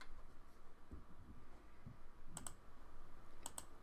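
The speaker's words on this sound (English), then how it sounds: "Because he's typing right now." Faint, sparse clicks of typing on a computer keyboard, with a few scattered keystrokes and two quick pairs of sharper taps, in an otherwise quiet room.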